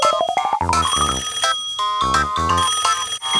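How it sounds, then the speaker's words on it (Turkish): A melodic electronic ringtone plays loudly and close, a rising chirp followed by repeating tonal phrases, with no talking. "Telefon çalıyor."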